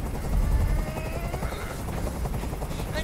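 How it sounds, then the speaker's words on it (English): A helicopter drones steadily overhead in the video game Detroit: Become Human, a continuous low rotor rumble with a buzzing whine, fairly loud and unbroken for the whole stretch. "I can't stand that noise anymore. Tell that helicopter to get out of here."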